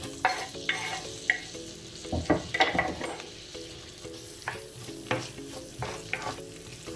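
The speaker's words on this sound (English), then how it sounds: "I'm just going to be frying some onions." Onions sizzle softly in a pan, with periodic scraping and clatter as they are stirred, close and fairly quiet.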